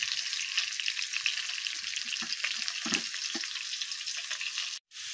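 Potatoes sizzling in a pan with a steady, dense frying hiss and occasional soft stirring scrapes, heard up close and continuous until a brief dropout near the end.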